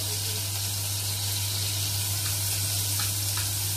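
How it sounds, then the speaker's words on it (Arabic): Garlic sautéing in ghee in a cooking pot for a fatteh sauce, giving a steady, even sizzle and hiss throughout with a low constant hum beneath and no talking. "هشوح كده التومه"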